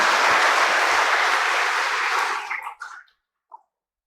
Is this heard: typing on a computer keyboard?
no